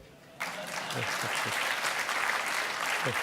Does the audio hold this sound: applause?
yes